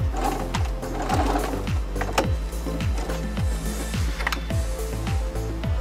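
A sewing machine stitches a pant cuff at a short 2 stitch length, its needle thumping in a steady, fairly fast rhythm close by with a few brief pauses and no talk.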